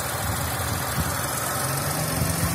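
A car engine idles steadily, a low continuous rumble with slight vibration holding an even level throughout, with no talk over it.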